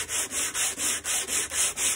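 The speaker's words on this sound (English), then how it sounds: "So a combination of scraping and sanding and getting those last dimples out of the drill marks on this back." Sandpaper of 60 grit rubs back and forth across the wooden back of an archtop guitar, eight even rhythmic strokes heard close and alone.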